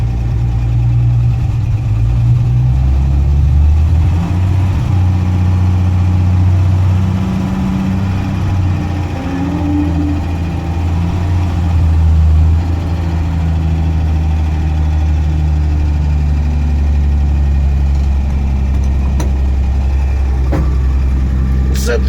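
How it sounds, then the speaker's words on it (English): A car engine runs at a fast, steady high idle with the choke on, a low continuous rumble, close by and fairly loud, without talking over it. "Now it's finally idling at a high idle with the choke on."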